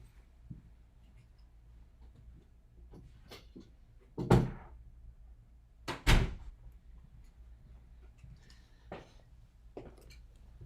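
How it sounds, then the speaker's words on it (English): An office door is shut, heard as two solid broadband thumps about two seconds apart in an otherwise quiet room, with faint handling clicks around them. "I'm just going to go close my door."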